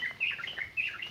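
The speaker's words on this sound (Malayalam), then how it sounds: "പല വ്യത്യസ്തമായ കിളികളുടെ ശബ്ദങ്ങൾ കേൾക്കുന്നുണ്ട്" Several different birds chirp and sing in the forest on Kashmirkunnu, repeated short high calls overlapping one another, fairly faint and with no voices.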